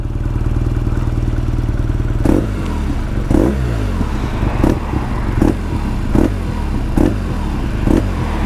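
A 2020 BMW R nineT Scrambler motorcycle engine rumbles at idle up close, then is blipped in a series of sharp, evenly spaced revs, each a loud throaty burst over the low engine beat.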